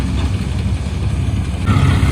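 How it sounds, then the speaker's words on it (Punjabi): Farm tractor engine running at low, steady revs beside a reaper and trolley after rain, a loud close continuous diesel rumble with even throb and no talking. "ਮੈਂ ਤੁਹਾਨੂੰ ਦਿਖਾਉਣਾ ਵੀ ਕਿੰਨੇ ਕੁ ਚੱਕਰਾਂ ਤੇ ਚੱਲਦਾ ਟਰੈਕਟਰ ਜਮਾ ਹੀ ਆਰਾਮ ਨਾਲ ਚੱਲਦਾ ਹੈ"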